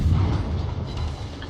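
Naval gunfire from a destroyer in a warship battle game, a dense, continuous low rumble of booming cannon fire with no talking over it.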